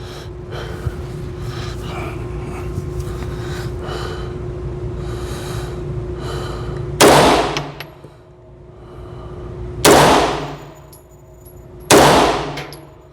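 Tisas Night Stalker pistol shots ringing off steel targets: three loud sharp reports with clanging rings that fade over about a second, spaced a few seconds apart, after a stretch of breathing and low background noise.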